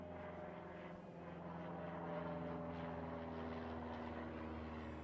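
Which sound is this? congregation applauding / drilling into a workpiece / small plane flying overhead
small plane flying overhead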